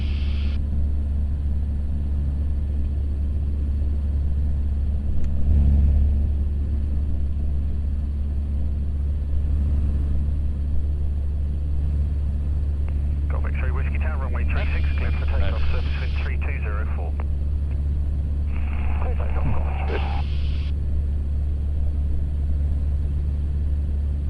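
A light training aircraft sits on the runway at Redhill with its engine running at a steady idle, a constant low droning rumble, while cockpit radio and instructor chatter carry over it.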